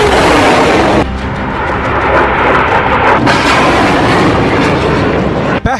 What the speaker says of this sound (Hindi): फिर फायर हुआ दूसरा रॉकेट, इसके बाद लॉन्च हुआ तीसरा रॉकेट।